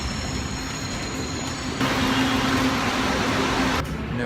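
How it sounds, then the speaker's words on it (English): An LRT train in Metro Manila arrives at a station, a loud steady rumble and rush of air that swells partway through and holds with a faint tonal whine. "I hear a train arriving"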